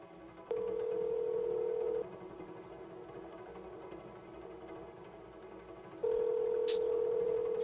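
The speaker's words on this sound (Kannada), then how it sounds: "ಫೋನ್ ರಿಸೀವ್ ಮಾಡು." A telephone tone sounds in two steady, sustained beeps separated by a quiet gap, faint and near, with a brief electronic chirp near the end and no talking.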